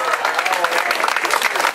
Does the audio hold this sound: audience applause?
yes